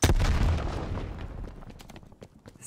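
A frag grenade goes off in a shooter video game, one loud booming blast at the start whose rumble and crackle slowly decay, with scattered gunfire pops following.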